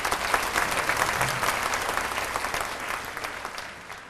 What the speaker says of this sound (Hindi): बहुत सुंदर, जोरदार तालियों के साथ।